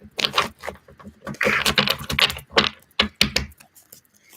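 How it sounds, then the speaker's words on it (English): Rapid crisp flicking and riffling of a deck of tarot cards being shuffled, several short bursts of dense clicking with brief pauses between them, close by. "these cards do not want to shuffle"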